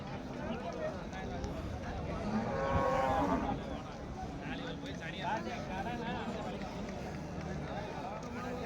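Cows moo at an outdoor cattle market in Erode, with a louder, drawn-out low bellow standing out amid the murmur of a crowd; people talk over the animals throughout.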